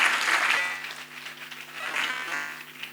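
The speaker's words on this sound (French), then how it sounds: "On applaudit encore le ministre Patrick Mouyaya Katembwe." Audience at a conference event applauding a government minister, sustained crowd clapping filling the room at steady loudness for the whole stretch, easing slightly midway then swelling again, with no speech over it.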